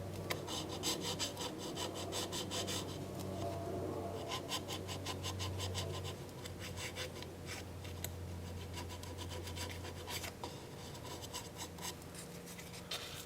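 Steady abrasive rubbing on a wooden bowl turning on a lathe, a continuous raspy scratching that surges in short bursts, with a low motor hum running underneath throughout.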